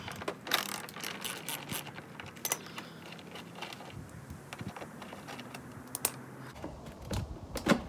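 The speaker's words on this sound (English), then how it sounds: "So you're just gonna remove the bolts." Bolts are loosened and removed from a Lexus IS300 differential with a ratchet, which clicks in quick close bursts alongside small metallic clinks, with no one speaking.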